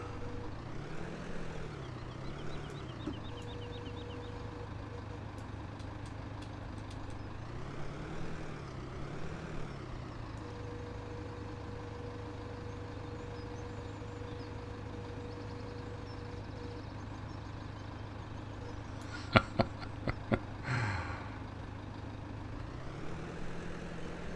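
Massey Ferguson tractor engine in Farming Simulator 17, a steady low idle hum that swells and dips in revs a few times, with a brief clatter of clicks near the end and no talk.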